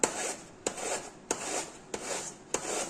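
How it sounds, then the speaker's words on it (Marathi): Mango is grated into long shreds on a grater in a kitchen, with close, steady rasping strokes in a regular rhythm, each stroke starting with a sharp scrape. "हे पहा असा लांब लांब असा किस पडला पाहिजे, असं छान आपल्याला किसून घ्यायचा आहे आंबा।"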